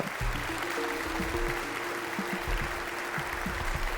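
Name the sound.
audience applause for the next contestants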